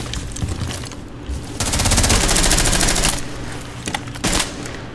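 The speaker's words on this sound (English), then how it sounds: "He shot me through a reinforced wall." Rapid automatic gunfire in the video game Rainbow Six Siege, with loud sustained bursts of shots close by, then more scattered shots and impacts afterward, and no speech.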